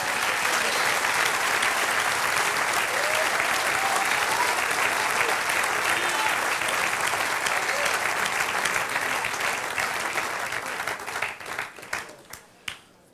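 A church congregation bursts into sustained, dense applause that holds loud and steady, then thins into a few scattered claps before fading out.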